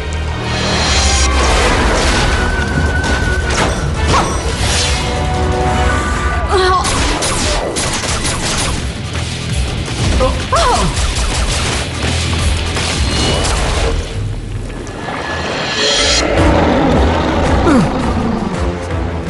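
Cartoon battle in a Hindi-dubbed G.I. Joe episode: loud, continuous gunfire and explosion booms with crashing impacts, dense and chaotic throughout, under a brief shouted voice and a musical score.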